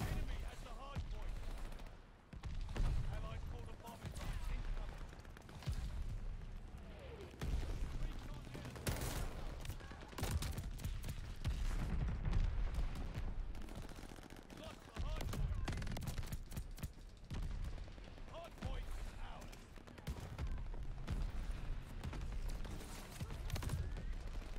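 Bursts of AS 44 automatic gunfire in Call of Duty Vanguard multiplayer, used at close range, crackle almost nonstop across the fight, layered with other battlefield shots and game noise.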